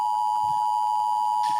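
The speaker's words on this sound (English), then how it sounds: "we got that little buzzer going on" A small electronic buzzer holds one steady, piercing tone the whole time, alone and unbroken, with only a faint extra blip near the end.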